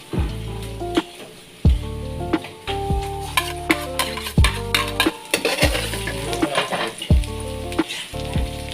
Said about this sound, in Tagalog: Lagyan natin ng konting mantika. And of course, bawang.